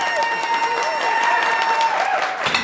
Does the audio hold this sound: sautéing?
no